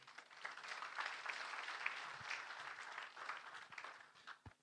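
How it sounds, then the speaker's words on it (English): Applause from the audience at a conference closing ceremony, a sustained round of clapping heard faintly from a distance before it tapers off. "Another round of applause to the ICT chairman."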